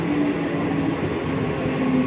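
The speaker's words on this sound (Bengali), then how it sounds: "কাঁচরাপাড়ায় ট্রেন ঢুকে গেল আমার" Train pulling into Kanchrapara station, a steady low rumble of railway carriages rolling close by, with no voices.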